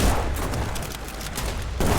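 Sustained burst of M249 machine gun fire in the video game Battledudes, loud, close and continuous for about two seconds, rapid shots blurring into a dense roar.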